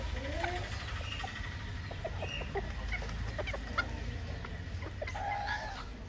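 Fancy chickens at a pet shop cluck in a busy, irregular stream of short calls, close and fairly loud, with faint voices in the background.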